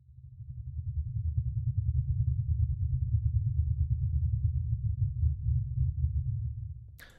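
Deep sub-bass drone forming the low layer of a sci-fi vehicle engine effect, a steady pulsing rumble that swells in, holds evenly for about seven seconds, then cuts off with a brief click.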